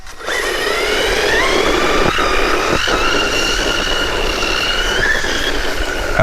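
A WLTOYS 104019 1:10 budget RC car runs across rough, loose ground with a steady high motor whine, shifting squealing tones and scattered gritty crunches, close and continuous.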